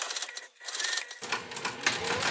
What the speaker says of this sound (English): then I'm going to sew down the sides of this pocket